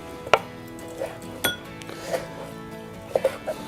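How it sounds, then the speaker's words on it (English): A knife chops through bacon and beef being cubed on a board, a handful of sharp, separate cuts spaced irregularly, close and fairly quiet. "I'm gonna take off this part of the bacon. And I'm gonna cube it up."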